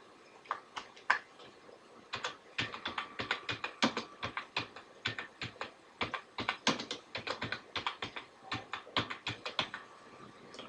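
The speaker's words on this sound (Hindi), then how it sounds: "उसके बाद आपको एड्रेस टाइप इन करना पड़ेगा, जो आपका प्रेजेंट एड्रेस है वो आपको लिखना पड़ेगा यहाँ पे।" Someone types an address on a computer keyboard, a steady run of close, crisp keystrokes in irregular bursts that continue for about ten seconds with no talking.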